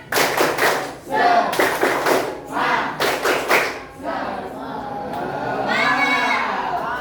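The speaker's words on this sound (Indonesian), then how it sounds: "tepuk semangat" A group of students doing a rhythmic spirit clap, sharp coordinated clap bursts in a patterned beat, followed by shouting and chatter from the crowd as the clapping stops.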